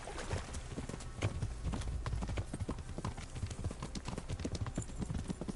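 Galloping horse hooves in the medieval game Kingdom Come Deliverance, a steady rapid clip-clop drumming close by and continuous throughout, with no voices over it.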